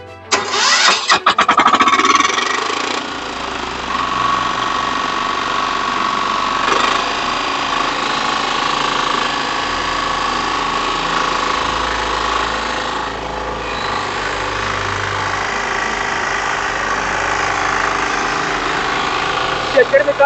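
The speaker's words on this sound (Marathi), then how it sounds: "बारा स्पीड डिझेल इंजिन कसं चालतंय लाईव्ह बघूया" A 12 HP Kama diesel engine on a power weeder cranks and catches with a loud burst, then settles into a steady, rattling mid-pitched idle that runs on continuously, close by.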